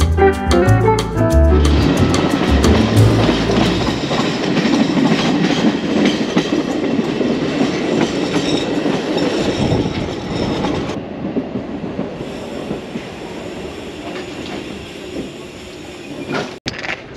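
A passenger train in Portugal's Douro Valley, heard with its windows open, rumbles along the rails with a steady rolling roar and clatter that eases off toward the end.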